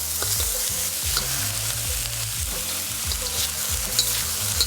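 Garlic, bell peppers, scallions and pork stir-fried on high heat in a wok sizzle loudly, with repeated scraping and tossing strokes of the spatula in a quick, uneven rhythm.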